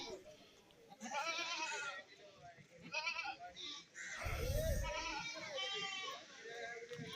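A large crossbred buck goat at a Kerala goat market bleats a few times, fairly faint, among the chatter of people talking nearby.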